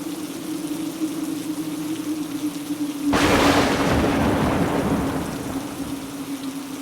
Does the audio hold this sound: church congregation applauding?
no